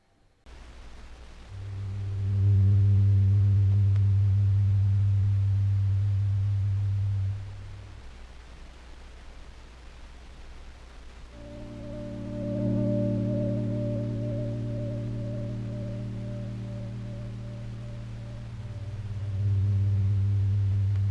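A sustained synth tone looped through tape drones with slow pitch warble and uneven swells, fading down midway, then returning with added upper harmonics over a low hiss.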